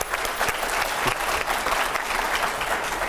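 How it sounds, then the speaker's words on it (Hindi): Steady applause from a large crowd, dense clapping that carries on without a break. "लेकिन ताली बजाइए"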